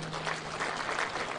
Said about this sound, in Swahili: Tuwapigie makofi hawa wadosi